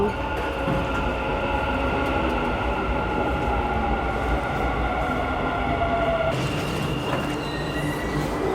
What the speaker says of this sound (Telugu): మెట్రో ట్రైన్ వస్తుంది.